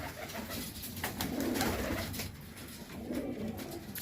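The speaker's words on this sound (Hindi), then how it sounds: "बहुत अच्छे कबूतर हैं। लंबी उड़ान के कबूतर हैं सब।" High-flyer pigeons cooing in low, soft, rolling calls, several birds overlapping close by against a steady background hum.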